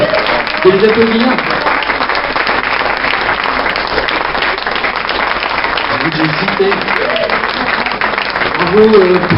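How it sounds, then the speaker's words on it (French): Neighbours gathered in a street in Saint Thomas de Conac in April 2018 applaud loudly and continuously, with people talking and calling out over the clapping. "Bravo tout le monde. Je vais les applaudir."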